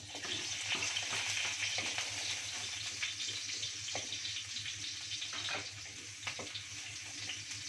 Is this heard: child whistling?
no